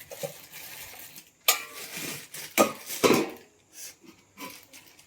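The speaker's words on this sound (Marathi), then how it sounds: "झाकून ठेवायचं आहे आता ताट" Kitchen clatter: a metal plate is set over a pot as a lid, with a few scraping, knocking sounds of metal dishware being handled and set down, with brief loud clanks between quieter pauses.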